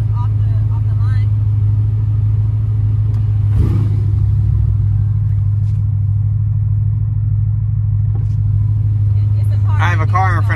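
A supercharged Cadillac CTS-V drives downtown with a deep, steady engine drone, then a brief louder swell of acceleration. Voices talk over it near the end.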